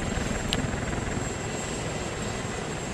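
An AH-64 Apache attack helicopter flying in the military video game Arma 2: a steady, loud rotor and engine drone with constant thrumming texture, holding even throughout with no voices.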